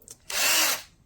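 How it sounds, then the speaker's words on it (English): Pink DEKOPRO 12V cordless drill spinning up briefly with no bit load, a single high whirring burst of under a second that rises, holds and winds down, close and clear. "DEKO, excuse me, drill."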